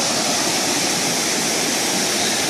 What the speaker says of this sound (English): I made it back to the creek crossing where I turned around yesterday.